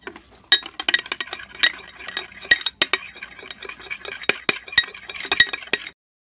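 A utensil stirs a Fevicol glue mixture for homemade nail polish in a small container, making quick rhythmic clinks and scrapes, close and fairly loud, before stopping abruptly, with no talking.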